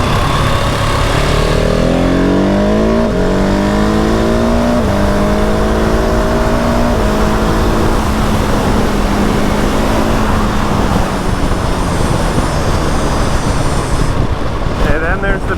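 A 2020 Husqvarna 701 motorcycle engine revving hard through rising gear pulls, loud and close, with strong wind roar over the ride.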